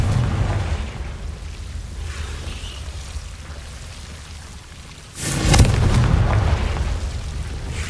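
Confringo fire-spell blasts in the game Hogwarts Legacy, a rumbling low roar that swells suddenly into a loud burst midway and then holds as a dense, crackling rush, with no voices.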